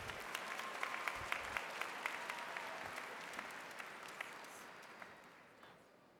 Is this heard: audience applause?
yes